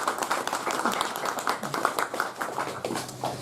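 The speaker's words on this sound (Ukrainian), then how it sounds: "Оплески, зала." An audience in a hall at a book presentation claps, a moderate, steady patter of many hands with some voices mixed in.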